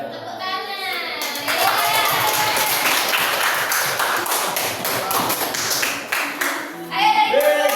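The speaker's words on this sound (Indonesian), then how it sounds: "Tepuk tangan." A classroom of students at an Islamic boarding school physics lesson claps together in a sustained burst of rapid hand clapping, loud and close, with children's voices before and after.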